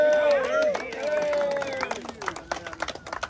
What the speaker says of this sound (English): a round of applause is appropriate.